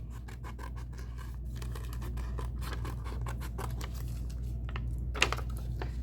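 Scissors cut out a fish scale shape, a continuous run of close snips and paper scratches over a low steady hum, with no talking.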